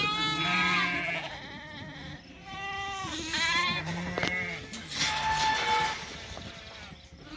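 Sheep packed in a sorting pen on a farm during sorting day, bleating over one another in a steady chorus of overlapping calls, near and loud, with livestock shuffling beneath them.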